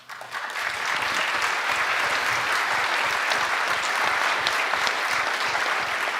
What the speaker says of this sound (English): one quick round of applause for our timekeepers